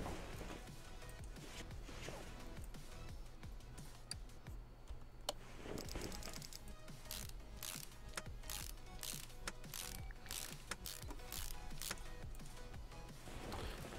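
In Car Mechanic Simulator, a bolt is tightened with a ratchet, giving a series of sharp, quick mechanical clicks over a constant low hum. The clicks come denser and faster in the second half.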